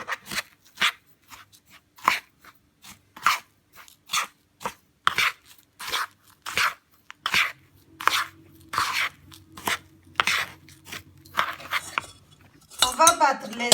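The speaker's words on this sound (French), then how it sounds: "On va bien mélanger et réserver" Coconut and ingredients for a fruit flan being mixed in a bowl, with regular clinks and scrapes of a utensil against the dish repeating steadily, close and fairly loud.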